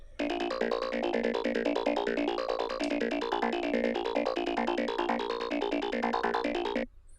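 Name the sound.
plucky filtered saw wave synth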